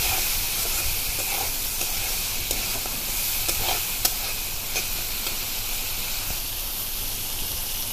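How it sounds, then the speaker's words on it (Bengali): Shrimp stir-fried in a pan gives a steady hissing sizzle with scattered crackles and a few light utensil taps, close and continuous, with no voices. "আমার চিংড়ি মাছ কষানো হয়ে গেছে।"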